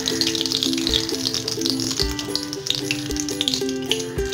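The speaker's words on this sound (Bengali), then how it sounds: "তেজপাতা এবং শুকনো লঙ্কা ফোড়ন এবার এটি একটু ভাজা ভাজা হয়ে গেছে" Nigella seeds, bay leaf and dried chilli fry in mustard oil left from frying eggplant, a steady close sizzle and crackle with occasional low thumps, under background music.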